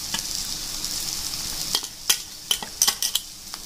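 Stuffed okra being stirred with masala in a pan over low gas, a soft steady sizzle broken by several sharp scraping clacks of the spoon against the pan.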